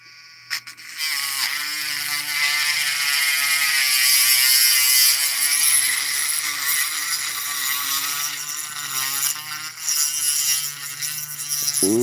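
Rotary power tool grinding steadily at medium-slow speed into the core of a challenge lock, a close, continuous whine with a small pitch wobble as it chews through metal, starting and stopping abruptly.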